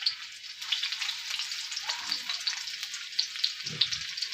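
Chopped onion fries in hot oil in a wok, giving a steady, close hiss of sizzling with a brief stirring scrape near the end.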